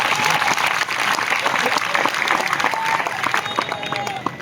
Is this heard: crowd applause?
yes